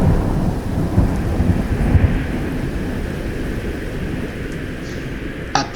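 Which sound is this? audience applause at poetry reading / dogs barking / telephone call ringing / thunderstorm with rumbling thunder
thunderstorm with rumbling thunder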